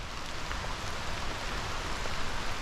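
Heavy rain pours steadily onto jungle trees, a dense, even hiss of countless drops that stays loud and continuous throughout with no voices.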